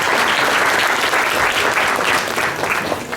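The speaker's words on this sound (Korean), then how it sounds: "박수 부탁드립니다" Audience applause after a presentation at a startup venture forum fills the room: dense, steady clapping from a sizeable crowd, loud and continuous for the whole stretch.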